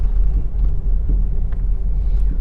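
Car interior while driving slowly through a narrow market lane, a steady low engine and road rumble, loud and close with no talking.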